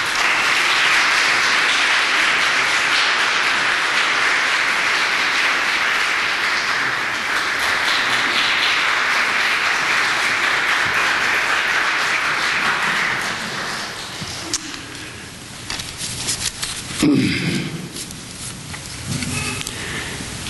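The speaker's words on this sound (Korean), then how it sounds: "박수해 주십시오" A church congregation claps together after a closing prayer, a dense, steady wash of applause that holds strongly for about thirteen seconds before thinning into scattered final claps.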